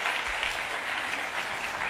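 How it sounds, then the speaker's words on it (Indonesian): Congregation in a church service applauding together, a dense, steady wash of many hands clapping at a fairly distant, even level throughout with no break. "Kita beri tepuk tangan yang beri Tuhan ya."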